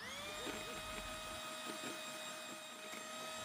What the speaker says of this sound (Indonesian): Nah, kalau pakai hand mixer kira-kira 10 sampai 12 menit lama mengocoknya.